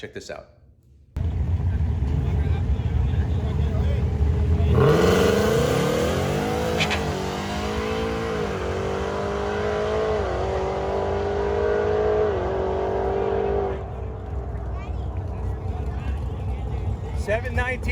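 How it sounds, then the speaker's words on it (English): A Whipple supercharged 2018 Mustang launches down a drag strip, its engine revving and rising in pitch through the gears in a loud, sustained roar lasting several seconds, with a brief spoken exclamation over it before fading to a lower rumble. "Take a look at Tracy's car going down the track."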